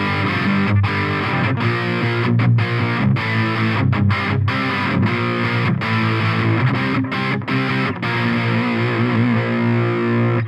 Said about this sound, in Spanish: La verdad sí suena muy parejo toda su distorsión.